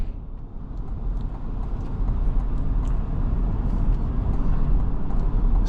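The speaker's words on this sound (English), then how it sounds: "Going over these bumps, this is a really rough patch of pavement right here" A 2026 GMC Hummer 3X SUV rolling over a rough, bumpy patch of pavement, a steady low road rumble with faint thumps and rattles, close and continuous inside the cabin.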